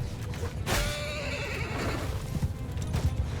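Horses whinny loudly in the video game Mount & Blade II Bannerlord, one sharp neigh standing out above a dense bed of hooves and battle noise.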